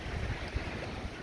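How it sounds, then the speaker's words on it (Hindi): Steady roar of strong wind buffeting the microphone and flapping a sheet over a fish tank, in Kinnaur, Himachal Pradesh, with low rumbling gusts and no voices. "वहाँ से चादर जो है वो फिश टैंक के ऊपर कैसे फटफटा रहा है, इतनी तेज़ हवा है।"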